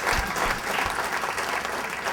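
An audience applauds a DJ with a steady burst of clapping that stays loud and dense throughout, with a few low thumps near the start.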